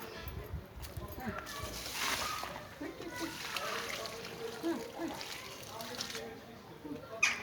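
Water poured onto plant roots in a garden where potatoes are being planted and cucumbers watered, a continuous splashing pour under steady conversation between several people, including a child.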